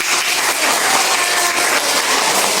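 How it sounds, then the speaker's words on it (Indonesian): Students applauding in a classroom, a dense, steady wash of many hands clapping together for a few seconds, loud and close. "Tepuk tangan lah buat."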